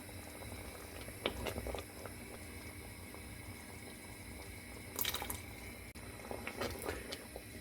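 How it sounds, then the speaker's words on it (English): A chana masala tomato sauce simmers in a pan, giving a soft steady bubbling wash with a few brighter pops and spatters scattered through it, fairly close and moderately quiet. "Continuing to cook out the sauce for about 5 minutes."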